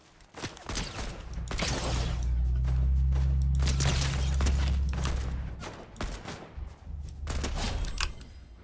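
Rapid bursts of gunfire from a Fortnite match crackle in clusters, with a sustained low rumble through the middle and more scattered shots toward the end, no talking over it.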